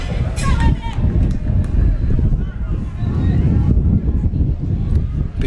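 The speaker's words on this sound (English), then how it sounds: "Big gust of wind here through the press box now." A strong gust of wind rumbles and buffets the microphone in the press box at a baseball state championship game, a loud, continuous low roar lasting several seconds.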